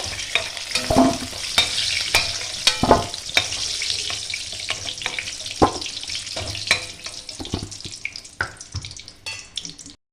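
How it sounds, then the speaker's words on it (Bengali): Potatoes frying with turmeric in hot oil, a steady close sizzle with frequent clattering stirs of a spatula against the pan. "হলুদ, একটু ভালো করে লাল লাল করে ভেজে নেব।"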